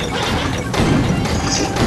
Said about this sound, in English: I will use this rocket and I will win!